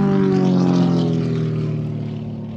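A propeller aircraft racing around pylons at the Shuttleworth airshow roars loudly and steadily with a droning engine note that fades slightly as it passes.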